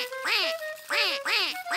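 A voice imitates a duck, giving three distinct nasal quacks in a row, close and clear.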